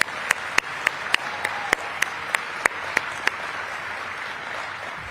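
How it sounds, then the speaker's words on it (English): Audience applause at a White House press briefing at Joint Base Andrews, a steady wash of clapping from a crowd, moderately loud and continuous, with a few sharper individual claps standing out. "can we all offer him a round of applause for 13 years?"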